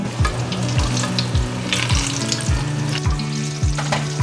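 Carrot pieces fry in hot oil with a loud, continuous sizzle, joined by a regular rhythm of stirring or scraping strokes, all close up and with no voices.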